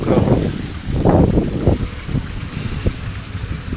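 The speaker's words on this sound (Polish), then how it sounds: "Wieje, mokro." Gusty wind buffets the microphone in wet evening weather at a waterside spot, roaring in loud uneven surges that rise and fade over a low rumbling background.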